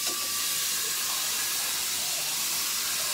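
Chicken and mushroom sauté in a hot pan, giving a loud, steady, close sizzling hiss that holds evenly throughout without any talking.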